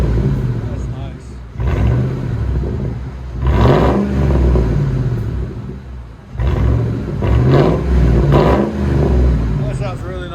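Straight-piped 5.4L V8 in an old Ford Expedition, a former Oklahoma State Trooper car, revs hard twice: loud, close, raspy bursts rising and falling over a deep idle rumble, with voices talking in between.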